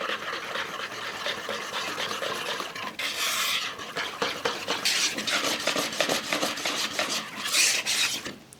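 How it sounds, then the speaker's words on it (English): Keto red velvet cake batter being mixed by hand after dry ingredients are added to wet, a utensil rasping and scraping steadily against the bowl, close and continuous with short bursts of harder scraping. "add your dry ingredients into your wet ingredients, and then we're going to mix it well"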